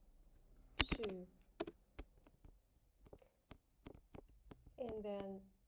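Someone types commands on a computer keyboard, producing scattered, sharp, quiet key clicks in irregular bursts, with brief spoken words mixed in.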